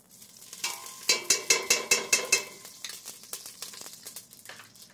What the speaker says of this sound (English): take a hot saute pan and add a 1/4 cup of coconut oil to that